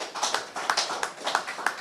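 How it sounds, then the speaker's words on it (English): Applause at an Obidient Movement political gathering in Delta State, Nigeria, a sparse and uneven run of hand claps from a modest crowd, fairly close and moderately loud, with no talk over it. "Please, a round of applause."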